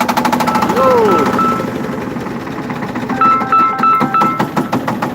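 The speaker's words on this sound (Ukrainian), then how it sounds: "350-й шифен без свічок, без нічого розкрутили, запустили" A Shifeng 350 tractor engine, started without spark plugs, runs with a steady rhythmic chugging close by while people talk over it.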